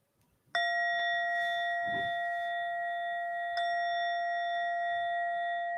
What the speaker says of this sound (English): we'll conclude our practice again with 3 chimes